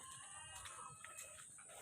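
A rooster crows among clucking chickens at a farm feeding time, the calls fairly steady and close over a constant background hum.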